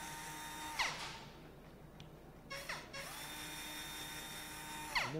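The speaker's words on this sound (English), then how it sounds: "we'll put little drill pins into this guide" High-pitched whine of a small surgical drill spinning up in several short runs, driving pins into a guide during a knee replacement, close and steady, with mechanical whirring between.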